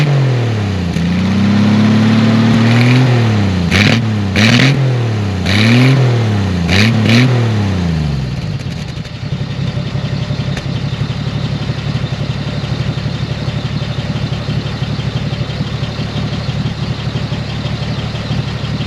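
An old, worn, oil-burning car engine revs loudly in several sharp rising bursts for the first few seconds, then settles into a rough, steady idle that continues close and alone.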